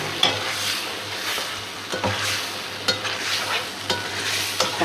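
Egg and potato curry being fried down in a pan, with a steady sizzle and a spatula scraping and stirring in regular strokes about once a second, close and fairly loud.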